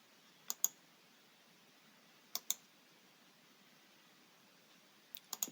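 Computer mouse clicks at a desk, quick double clicks heard three times with silent gaps between, crisp and close against a faint hiss.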